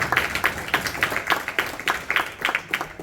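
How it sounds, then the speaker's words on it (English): Audience applause at a cricket club's presentation evening held at a Hindu temple in Derby, heard as a steady run of fairly even, rhythmic claps in a room, with no talk over it. "So please give yourself a big round of applause for making us so proud."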